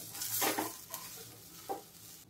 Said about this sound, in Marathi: आता मी यात घालणार आहे सुकं खोबरं आणि हे सुद्धा मी ह्याच्यातच भाजून घेणार आहे।